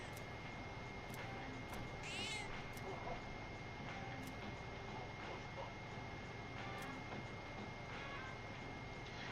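A cat meows in Persona 3 Reload, a brief, faint call set against steady game background sound.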